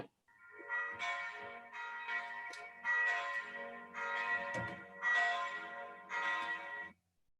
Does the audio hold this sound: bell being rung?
yes